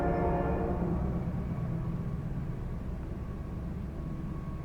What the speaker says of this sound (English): Never mind that train. They love to go by and ruin my videos.